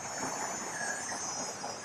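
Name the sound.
cicadas buzzing outdoors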